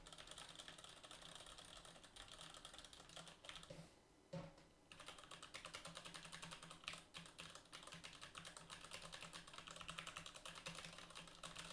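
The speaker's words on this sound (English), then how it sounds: "let's do some typing on the keyboard." Steady, fast typing on a SteelSeries Apex 7 TKL Ghost Edition mechanical keyboard, a dense run of crisp key clacks that continues with one brief pause, heard close but quiet, with no one talking.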